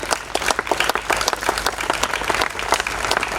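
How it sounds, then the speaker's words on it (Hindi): Dense, steady applause from a theatre audience at the close of a Rashmirathi stage show, honouring music director Mohammad Jani. Many hands clap close and loud without pause. "मोहम्मद जानी के लिए जोरदार तालियां"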